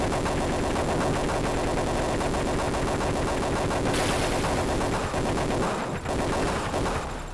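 Loud, dense burst of video game gunfire from Desert Strike: Return to the Gulf on Genesis, steady and unbroken for about four seconds, then a brighter crackling blast as fuel drums blow up, with rumbling fire continuing afterward.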